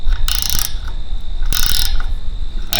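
A 15 mm wrench tightens a propane hose fitting on an RV, giving a few close, loud bursts of metallic ratcheting and scraping with short pauses between them over a steady mechanical hum.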